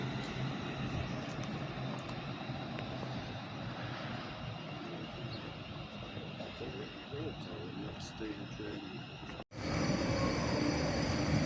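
A train at Crewe station bound for Birmingham New Street from Liverpool Lime Street rumbles steadily at the platform, with a sudden louder hissing change near the end and a voice talking over it.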